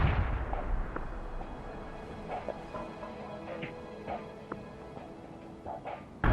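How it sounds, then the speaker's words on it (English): Artillery barrage in the real-time strategy game World in Conflict: distant rumbling booms and scattered impacts spread irregularly over a steady low battlefield rumble, no voices over it. "Fire mission received."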